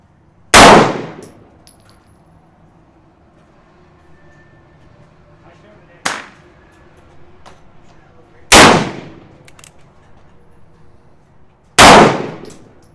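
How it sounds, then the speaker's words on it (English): A Colt Single Action Army revolver fires .45 Colt cowboy loads outdoors: four sharp, loud, separate shots spaced a few seconds apart, each with a short ringing decay and quiet between. "First up will be the single action army, and I'm using the cowboy load of 5 rounds to shoot a 5-shot group"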